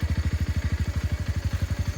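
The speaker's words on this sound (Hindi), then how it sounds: "अभी तो बाइक स्टार्ट कर रहे हैं।" A motorcycle engine starting and settling into a fast, steady thumping idle, close and loud with an even pulsing rhythm and no talk over it.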